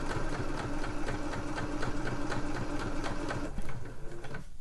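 A sewing machine runs a straight stitch on a slipper boot, a close, rapid mechanical chatter of needle strokes. It slows and stops abruptly at the end.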